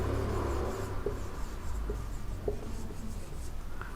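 A pen writes numbers on paper during a maths lesson, close and quiet: scratchy strokes with a few sharper taps, over a low steady background hum.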